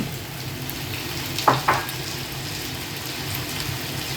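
Potatoes tipped into a hot pan while cooking spicy chicken masala, giving a steady close sizzle with two brief louder splashes of frying around the moment they land.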